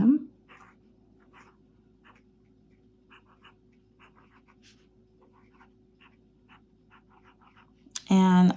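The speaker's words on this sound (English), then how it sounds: "I love the way this nib writes" A Pilot Pro Gear Slim fountain pen with its original medium-fine nib scratches lightly across paper in a run of short, soft strokes, close and quiet against a low steady hum, ending with a louder burst of handling noise.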